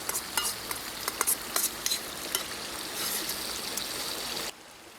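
Eggs and tomatoes cooking in a pan at a winter woodland wild camp, giving a close, steady sizzle with scattered crackles and stirring scrapes that cuts off abruptly near the end, no voices.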